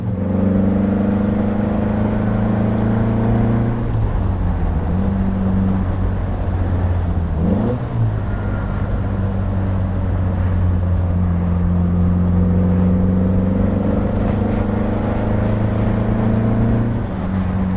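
1967 Morgan Plus 4 Super Sport with a 2.2-liter four-cylinder engine driving steadily, a loud, continuous droning engine note heard from inside, holding pitch with a short gear change midway and gentle rises in revs.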